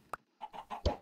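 A few short clucks from Minecraft chickens come in quick bursts, the last one loudest, after a brief sharp peep near the start.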